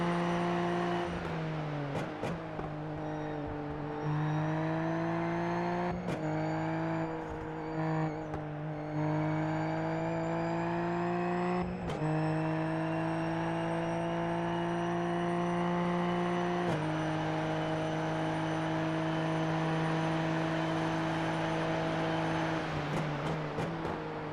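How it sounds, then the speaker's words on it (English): A Formula C Super Formula Lights race car screams around the Nürburgring Grand Prix circuit in the iRacing sim, its loud, steady engine whine rising and dipping through shifts and corners, with no talk. "you're in the Formula C, Super Formula Lights, fixed session at Nürburgring Grand Prix"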